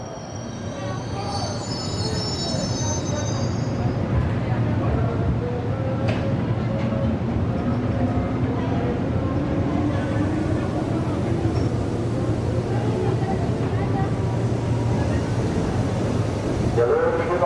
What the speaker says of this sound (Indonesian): Jalur 1 ada di kereta api melintas langsung